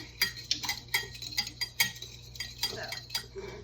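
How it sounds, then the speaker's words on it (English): A fork beats an egg and water mixture in a bowl, giving quick repeated metallic clinks and taps in an uneven rhythm, close and fairly clear against a quiet room. "In this mixture, I'm going to go ahead and whisk it together."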